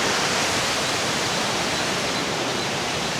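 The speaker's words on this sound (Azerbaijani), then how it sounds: "Şəlalənin adı Sevgi Şəlaləsidir." Sevgi waterfall in Sapa, Vietnam pours in a dense, unbroken roar of falling water, loud and close, with no other sounds rising above it.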